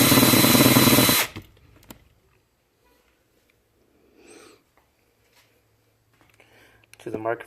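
A power drill runs loudly for just over a second, drilling a hole while retrofitting halo lights, then stops, leaving quiet shuffling and faint murmurs before a brief voice near the end.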